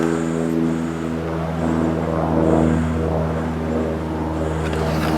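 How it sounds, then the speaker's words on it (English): A propeller airplane drones overhead above snowy winter woods on a ski trip to the Holmes Lake lean-to, a steady, fairly loud engine hum that holds throughout with no voices. "There's a plane."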